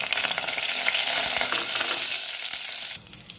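Whole spices, cinnamon, cloves and bay leaf among them, dropped into hot oil for a mutton gravy, crackling in a loud, dense sizzle that carries on steadily and then eases slightly near the end.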